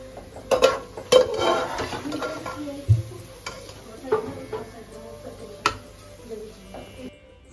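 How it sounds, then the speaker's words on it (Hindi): Golden brown fried onions are scraped out of a pan into a pot for shahi mutton korma, with scattered clinks and scrapes of a spoon against metal over a faint background. "दोस्तों, देखिए हमारी प्याज अच्छे से गोल्डन ब्राउन हो चुकी है। अब इसको हम"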